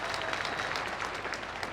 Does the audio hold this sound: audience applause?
yes